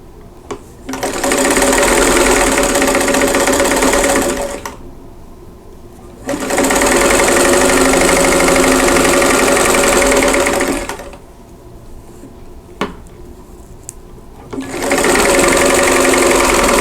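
A sewing machine stitches squares together for an hourglass quilt block, running in three loud, steady, rapid bursts of several seconds each, separated by short pauses while the fabric is repositioned.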